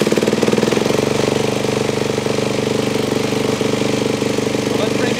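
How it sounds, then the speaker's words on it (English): A four-stroke dirt bike engine runs at a raised idle with a loud, steady, rapid thumping putter that continues without a break from start to finish. "At this point, start the bike."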